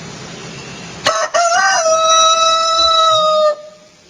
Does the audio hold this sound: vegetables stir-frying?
no